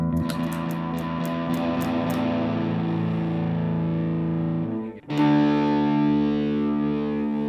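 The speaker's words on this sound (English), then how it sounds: "Is this a distortion pedal?" Electric guitar chords played through a distortion pedal: thick, fuzzy sustained tones with a sharp cut and a new chord striking in, loud and close.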